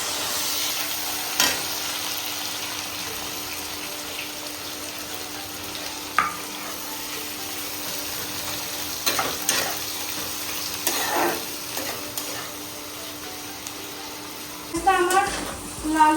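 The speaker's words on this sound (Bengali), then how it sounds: "এবার আমি পেঁয়াজটা ভালো করে ভেজে নেব।" Onions frying in oil with whole chillies, green cardamom and cloves for homemade chicken biryani, a steady sizzle with stirring scrapes and occasional clinks, close and continuous, brief voices near the end.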